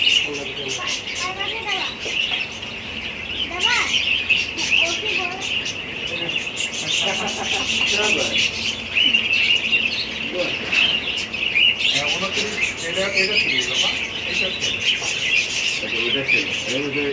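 Many birds chirp and tweet continuously at a busy bird market, with overlapping squawks and calls close by under occasional voices.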